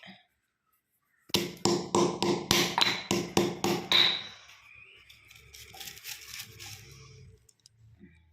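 Fruit is pounded to break it open and free the seeds, giving about ten sharp, evenly spaced thuds up close, followed by softer crackling and rustling as the broken pieces are handled.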